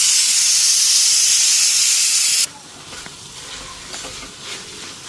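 Garam masala hits hot ghee with a loud, dense sizzle and hiss that cuts off abruptly halfway, leaving quiet light stirring and faint crackles afterward.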